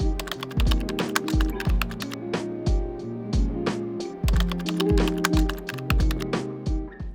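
Fast typing on a computer keyboard while entering text into a notes app, with dense, close, crisp key clicks in quick bursts over quiet background music.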